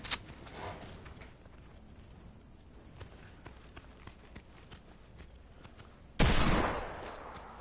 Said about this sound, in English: That's him shooting at my buddy coming out of the doorway.